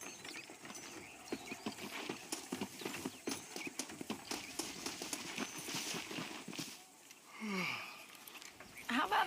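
Steady horse hooves clip-clop in Red Dead Redemption, a quick rhythmic trot with faint tack and saddle rattles; a horse whinnies near the end.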